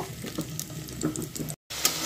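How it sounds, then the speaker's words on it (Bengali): Close, busy sizzling of potatoes frying in oil, with scraping stir sounds and a brief gap of silence near the end. "এরপর আমি আলুগুলোকে ভালো করে ভেজে নেব।"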